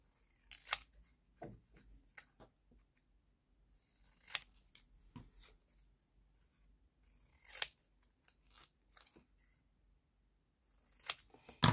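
Paper cut with scissors during card-making, a series of sharp snipping bursts spaced irregularly through quiet stretches, close and fairly crisp, with no talking.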